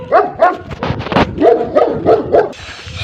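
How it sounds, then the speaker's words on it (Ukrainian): Several dogs bark in a rapid, uneven volley of sharp, close barks and yips, with no talk over them. "Собаки."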